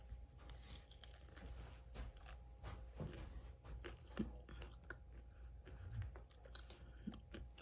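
Close, quiet chewing of a blueberry lavender cruller pastry, soft crunchy bites and mouth sounds in an irregular rhythm.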